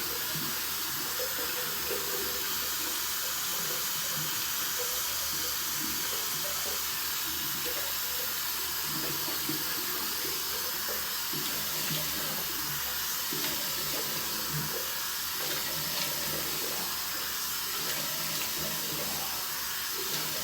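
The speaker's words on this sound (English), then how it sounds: "Get some more water running so I can splash it on my face." A bathroom tap runs steadily into a sink for face splashing, a loud, close, continuous rush of water that goes on unbroken throughout with no talking over it.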